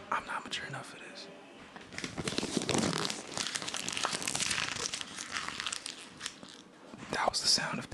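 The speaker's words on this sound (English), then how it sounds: "That was the sound of paper." Paper, a sheet of homework, is crumpled close to the ear with dense crackling and crunching over several seconds, joined by soft whispered voices.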